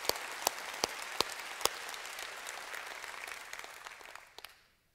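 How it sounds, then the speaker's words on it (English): An audience applauds for several seconds, a dense patter of claps with a few sharp louder ones standing out, fading away at the end. "I think you're worth a big round of applause."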